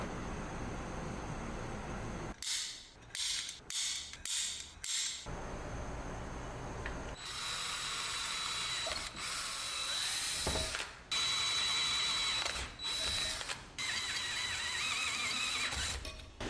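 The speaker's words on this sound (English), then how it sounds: "so I'm going to just drill the first one out" A hole is drilled to mount a part on a BMW E30 with a turbo M50 engine. A power drill whines in bursts, starting and stopping, with a longer steady run near the end. No one talks.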